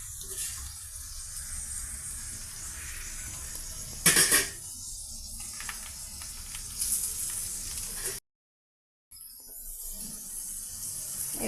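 Boiled egg pieces fry in a pan of oil for an egg fry, giving a steady close sizzle that swells briefly in a louder crackling burst, then cuts out for a moment before resuming.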